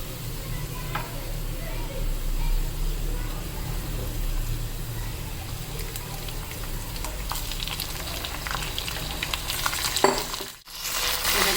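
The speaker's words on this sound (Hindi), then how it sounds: "तो अब इसमें चिकन डाल के और चिकन को भून लेते हैं थोड़ा।" Chicken pieces frying with browned onions in a pan for an aloo chicken curry, a steady loud sizzle with stirring scrapes and a sharp clatter near the end.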